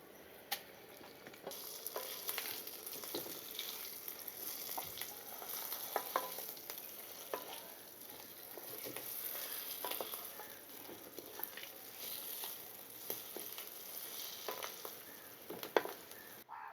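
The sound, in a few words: mixing crushed onion chutney into frying tempering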